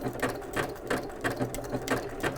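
A sewing machine stitches a decorative heirloom hem stitch that moves forward and back before hopping sideways, its needle clattering in a quick, uneven rhythm of bursts, close up and steady.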